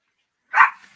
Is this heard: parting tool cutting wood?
no